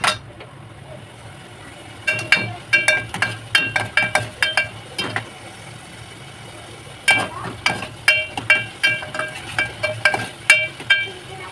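A spoon stirs tomato-onion puree roasting in a pan for Maharashtrian sukka chicken, bursts of scraping and clinking strokes in two rhythmic runs over a faint sizzle, close by, with no talk.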